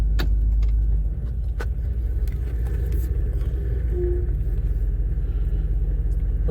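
A 1988 Chevy OBS pickup truck idles with a deep, steady low rumble after a cold start, close and continuous, with a few faint clicks and jangles over it.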